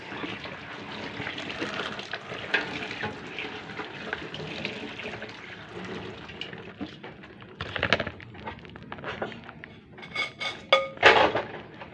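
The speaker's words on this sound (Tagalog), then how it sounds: "pag nagbukas ako ng tubig sa gripo, hindi malakas para hindi maaksaya" Tap water runs gently into a kitchen sink while greasy dinner plates are washed, a steady low splash with soft clinks of dishes near the end.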